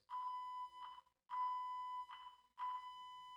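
A voice mimics an electronic beep, three sustained bleeps in a row with short breaks between them, clear and steady.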